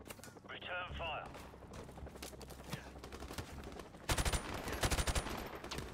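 Rapid gunfire erupts in Call of Duty 4: Modern Warfare Remastered, scattered single shots giving way to a dense, loud burst of automatic fire near the end, with a brief voice early on.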